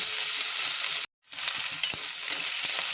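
Small chopped potato pieces fry in hot oil with a steady close sizzle and stirring scrapes; the sound drops out for a moment, then the crackling frying returns at an even level.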